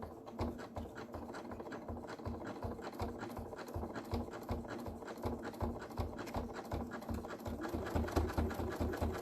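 A sewing machine stitches across stamped fabric with a steady, rapid mechanical patter that stays close and even throughout, with no talking.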